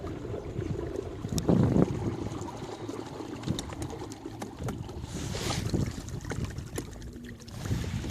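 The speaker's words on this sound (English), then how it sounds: "Sure is nice not to paddle and move through the water at a pretty good speed." A small boat moves through water powered by a Field and Stream Eagle Talon trolling motor, with steady splashing and rushing water, wind buffeting the microphone, and a few knocks against the hull; no talk.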